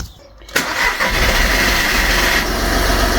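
A diesel engine in a VW Polo 1.2 TD cranks and catches after a brief quiet moment, then settles into a loud, steady running rumble close by.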